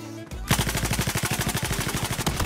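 Rapid automatic gunfire from Battlefield 4 gameplay, a steady stream of close, loud shots after a brief quiet start, fired in even bursts with no talking over it.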